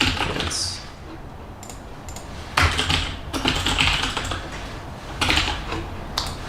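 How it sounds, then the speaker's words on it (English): Typing code on a computer keyboard during a Kotlin programming practice: rapid, close clicking keystrokes in uneven bursts with short pauses between. "I've been typing semicolons for years."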